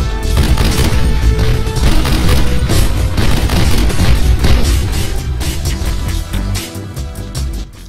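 Turret bombs blasting in the video game Army Men: Major Malfunction, a loud, dense run of booming explosions and gunfire-like cracks that pound continuously, thinning slightly toward the end.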